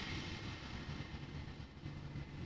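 A Boeing 747 nicknamed the Queen taxis at Amsterdam Schiphol, a steady low engine rumble and broad roar held at a distance with no voices.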